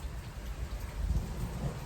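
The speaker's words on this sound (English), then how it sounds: "Y'all can hear the thunder rolling." A rainstorm brings a low, rolling rumble of thunder under steady rain, heard outdoors near trees. The sound is faint and distant, and it swells briefly in the middle.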